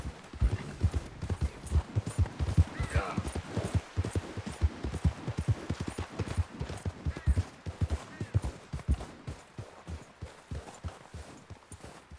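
Horse hooves in Red Dead Redemption 2 video game, a rapid, continuous clip-clop of a trotting horse, close and distinct, with a brief faint whinny-like tone partway through.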